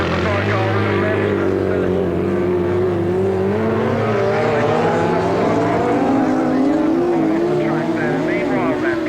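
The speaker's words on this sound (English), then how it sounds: "John Halsey going all over the place at the sidecar with the revs" A grasstrack sidecar motorcycle engine revving hard during a 1988 race, a loud continuous wavering roar with rising and falling pitch, heard close and sustained throughout.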